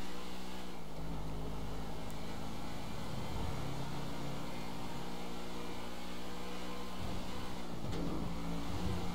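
Car engine in the GTA V game as it is driven recklessly, a loud continuous roar that swells and eases with revving, carrying on without a break throughout.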